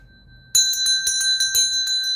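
A bright, high-pitched notification bell chimes in a rapid string of about eight metallic dings after a short quiet lead-in, loud and close, with no talking.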